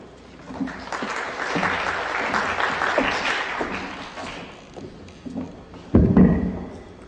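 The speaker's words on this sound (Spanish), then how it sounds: "Vamos a recibirlo con un fuerte aplauso." Audience applause at an evening law lecture on sanctions in state contracting, a sustained wash of many hands clapping that fades, followed by a few loud thuds and bumps near the end.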